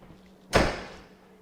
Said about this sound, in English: I'm gonna go ahead and close my door.